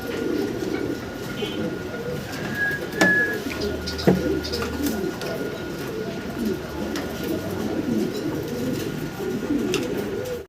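Pigeons at a pigeon loft cooing, soft low murmurs repeating under background chatter and a few clicks and knocks, with a brief louder thump near the middle.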